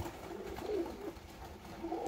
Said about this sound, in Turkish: Bakın insana alışık, yakın kuşlar.